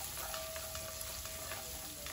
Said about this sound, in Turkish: Yakmadan güzelce devamlı karıştırarak salçayı kızartalım.